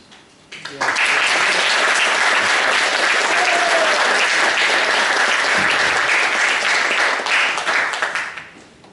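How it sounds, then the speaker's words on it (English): Applause breaks out at the back of the room during a town council development management committee meeting. The clapping starts abruptly, holds as a loud, sustained burst for about eight seconds, then fades away. "thanks for the applause at the back"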